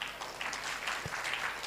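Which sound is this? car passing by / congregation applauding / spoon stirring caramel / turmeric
congregation applauding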